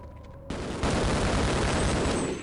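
Gunfire in the video game Half-Life bursts in suddenly after a quiet start, becoming a dense, loud, continuous rattle of rapid shots that intensifies and holds steady to the end.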